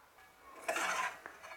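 Spoon stirring ghee and fried spice into a pot of vegetable ghanto, a brief scraping clink of metal against the pot, faint and close.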